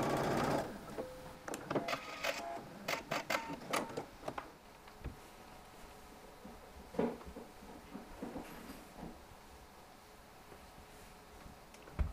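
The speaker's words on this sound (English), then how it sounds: "I'm stay stitching the edge of my collar just to keep the two pieces in place" A sewing machine runs stay stitching along the edge of a shirt collar, with a burst of fast mechanical stitching at the start, then quieter intermittent clicks and short runs.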